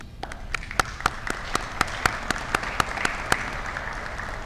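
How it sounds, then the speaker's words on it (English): An audience at a correctional officer academy graduation applauds in a steady wash of clapping, with a few sharp, loud claps standing out at a regular pace near the front. "Give yourselves a round of applause, please"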